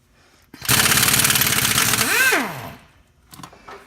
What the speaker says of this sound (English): let's see if it works with the air impact